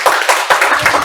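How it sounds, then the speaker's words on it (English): An audience claps for a teacher at a community talk. The applause is loud and close, with dense hand claps and small surges over one second. "clap for her."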